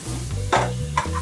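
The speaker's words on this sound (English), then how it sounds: "And I'm gonna put some bacon as well. And then when it gets hard, put some oil on it." Bacon sizzles in hot oil in a frying pan, a brief crackling hiss with two sharp bursts of spatter over a low steady hum.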